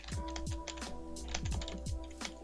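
A computer keyboard is typed on in quick bursts of crisp key clicks up close, over steady background music.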